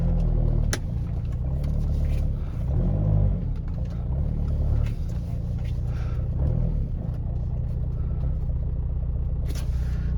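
A VW Beetle TDI's diesel engine rumbles steadily up close as the clutch releases and the car drives off, with low vehicle drone throughout.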